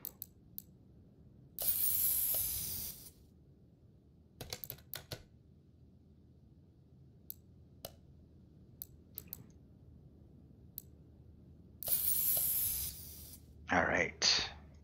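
Headlight covers get spray painted in Car Mechanic Simulator 2021, with two bursts of hissing spray about ten seconds apart, scattered clicks between them and a short mechanical whir near the end.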